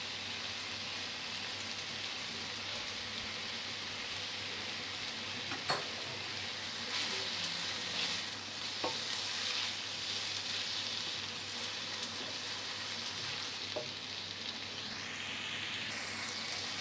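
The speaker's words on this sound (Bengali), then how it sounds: "সসটা সবজির সঙ্গে ভালো করে মিশিয়ে নিয়ে" Steady sizzling hiss from a hot frying pan as hot and sweet tomato chili sauce and vinegar are stirred into vegetables for veg chowmein, with occasional faint scrapes and clicks of the spatula throughout.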